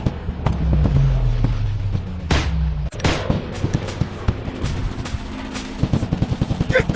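Gunfire in the Commando Strike shooting game, a low rumbling blast followed by rapid bursts of sharp automatic shots, close and loud, crackling in quick repeated volleys.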